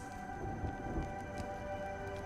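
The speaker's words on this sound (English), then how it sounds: "When will this rain ever stop?" Rain and thunder in the Honkai Star Rail video game, a steady wash of rainfall with low thunder rumbling under it and faint droplets, moderately quiet and continuous, with steady tonal hums in the background and no talking.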